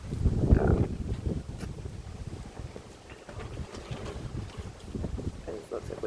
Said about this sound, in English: There's lots of wind.